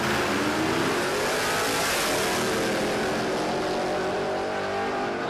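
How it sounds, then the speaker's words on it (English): Drag racing cars at a dragway track championship qualifying round accelerate hard, a loud continuous engine roar that holds strong throughout without talk. "I think the black car of Sean Matthews is out in front in the right-hand lane."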